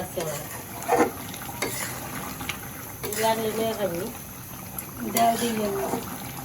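Food stirred in a pan on a gas stove while it sizzles and fries, with scraping strokes of a utensil against the pot and a person talking intermittently over the cooking.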